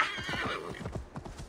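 A horse in Assassin's Creed Valhalla neighs loudly at first, then its hooves thud in a quick, uneven clatter as it struggles on sloped ground, close and without speech.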